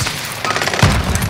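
Rapid automatic gunfire rattles close and loud in a first-person shooter, a dense burst of shots with a heavier thump partway through and no talk.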